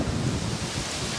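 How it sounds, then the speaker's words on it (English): Strong wind buffets the microphone outdoors at the Acropolis in Athens, giving a brief, dense, rumbling roar with no break. "It's windy."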